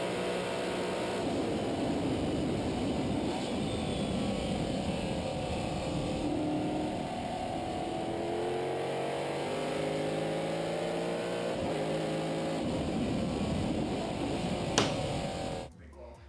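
A GT-style race car lapping Road America in the iRacing sim, its engine note rising and falling steadily through gear changes for the whole stretch, loud and continuous, cutting off abruptly near the end.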